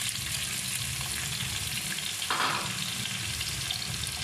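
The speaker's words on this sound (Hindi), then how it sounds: "अब एक कढ़ाई के अंदर हमने ये हाफ कप के जितना ऑयल या घी ले लेना और इनको फ्राई कर लेना" Potatoes cut into long strips fry in half a cup of oil or ghee in a kadhai over high heat, giving a steady, close sizzle with a brief stir partway through.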